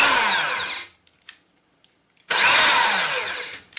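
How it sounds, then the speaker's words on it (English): In a small workshop, an electric drill runs in two loud, close bursts of steady whirring, with a short quiet pause and a couple of faint clicks between them. "Here's the drill."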